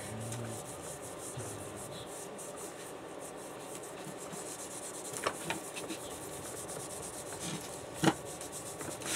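Someone rubs a vintage glass telegraph insulator to clean it, producing a soft, continuous scrubbing friction with a few sharper scrapes and knocks, close and fairly quiet.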